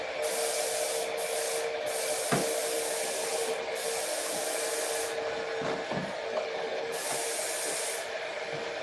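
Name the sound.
airbrush spraying clear coat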